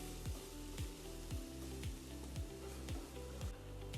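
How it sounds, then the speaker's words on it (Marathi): Onion and spices sautéing in a pan with a splash of hot water: a steady, moderate sizzle under a low tonal pulse that repeats about every half second, with no voices. "पुन्हा त्याच्यावर हे कांदा आणि सगळे मसाले व्यवस्थित परतून घेणार आहोत"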